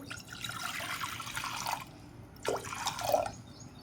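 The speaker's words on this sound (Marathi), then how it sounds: "कुकरमध्ये पाणी घालते" Water poured into a pressure cooker holding sprouted black chickpeas for chana masala in a home kitchen: two splashing bursts, the first longer and steady, then a shorter gush ending in a gurgle, with no talk.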